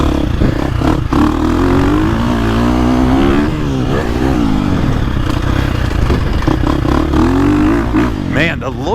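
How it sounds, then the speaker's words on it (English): A KTM 450 Factory Edition or Husqvarna FC350 dirt bike engine revs steadily and loudly with a rising and falling tone, close up, and a rider talks over it. "Even revving up, it doesn't have much engine braking."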